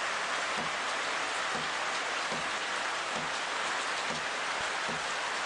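Steady rain patters on surfaces at a game reserve during a morning safari drive at Djuma, an even, hissing wash with faint drip-like thumps underneath and no voices.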